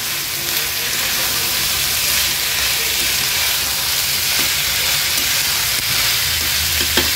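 Carrots and green peas sizzling loudly with onions in a hot pan while being stirred, a constant hissing fry with occasional scraping and light knocks, no talking.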